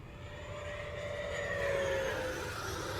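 An FMS Super Scorpion radio-controlled jet with a stock 90mm electric ducted fan roars at full throttle, a steady loud whine and rush that swells slightly as it passes at moderate distance, with no voices.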